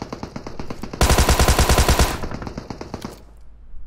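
A rapid burst of about a dozen gunshots fires in a steady rhythm for a second, loud and close, with softer game noise around it.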